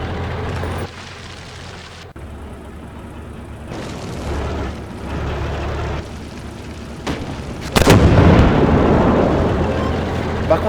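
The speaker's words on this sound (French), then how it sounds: "les tirs, quand même un peu missiles, les tirs de canon" Tank cannon shots and explosions in the armored combat video game Armored Warfare: a steady stream of deep booming blasts, with a louder, sharper explosion near the end that rings out under rumbling battle noise.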